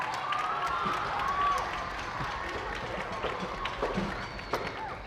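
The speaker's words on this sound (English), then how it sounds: "Yes, sure, you can clap." Steady audience applause after a school spring band concert, a broad wash of clapping from a crowd in a hall with some cheering and voices mixed in.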